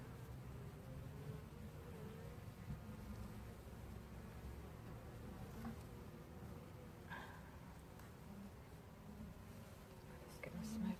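Honey bees buzz steadily around an active hive during a summer inspection, a dense, continuous hum close by with faint rustling and occasional louder passes near the end.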